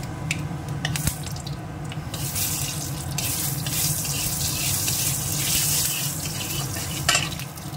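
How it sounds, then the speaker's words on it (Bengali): Mustard seeds and dried red chillies drop into hot oil in a home kitchen pan, giving a steady close hiss and crackle of frying with a few sharp pops, no voices. "তেলটা গরম হয়ে গেছে, দিয়ে দিচ্ছি সর্ষে আর শুকনো লঙ্কা। এখন চট করে ছাড়তে শুরু করবে।"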